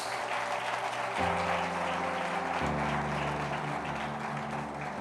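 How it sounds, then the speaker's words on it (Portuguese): Steady applause from a congregation at a church worship service fills the space, continuous and fairly loud, with a low musical hum sustained underneath. "Todos digam amém e dê um aplauso a Jesus"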